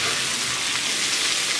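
Onions sizzle and crackle steadily in a hot pan, a close, continuous frying hiss with a small clink near the end.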